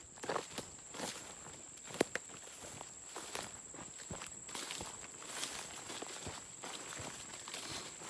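Footsteps crunch through the woods on the way to a hunting spot, a steady walking rhythm of close, fairly loud steps over rustling ground cover, with no one talking.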